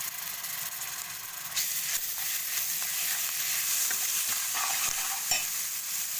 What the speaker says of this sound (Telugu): 2 చెంచాల కారం వేసుకొని కలుపుకున్నాము